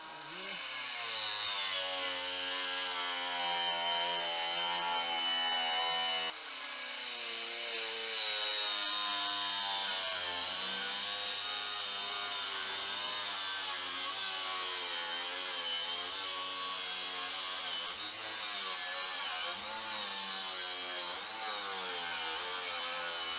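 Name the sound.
power tool cutting metal in a toolbox drawer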